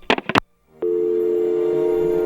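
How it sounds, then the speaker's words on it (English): A telephone handset is slammed down with a few quick clatters, then after a brief pause a steady, continuous dial tone hums on alone. "The principal slammed the phone down."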